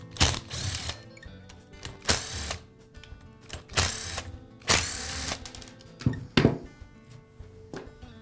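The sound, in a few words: removing end cap screws from DeWALT hammer drill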